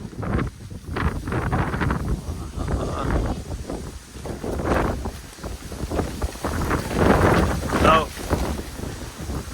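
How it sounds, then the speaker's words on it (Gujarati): Strong gusting wind roars and buffets the microphone in uneven surges, with voices talking beneath the rush. "બહુ પવન મિત્રો. હા જબરજસ્ત વાવાઝોડું."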